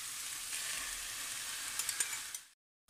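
Minced meat simmering with salt, pepper, cumin and tomato juice in a pan, a bright steady sizzle with a few sharp pops near the end before cutting to silence.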